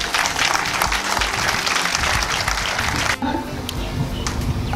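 An audience applauds the founder of an NGO at an official launch event, a dense burst of clapping from a crowd that cuts off sharply partway through, followed by a quieter room.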